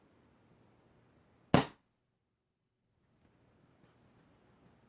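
A Crosman Nitro Venom Dusk .177 air rifle fires a single 10.5 grain pellet, one sharp close crack that decays quickly, surrounded by near silence.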